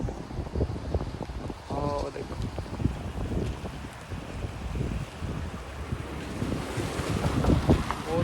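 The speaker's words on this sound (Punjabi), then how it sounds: "ਆ ਦੇਖੋ ਆਵਾਜ਼ ਆਉਂਦੀ ਹੈ ਨਾ ਪਾਣੀ ਦੀ" A steady, loud rush of the fast-flowing, swollen Sutlej River roars throughout, with wind buffeting the microphone and a voice speaking over it.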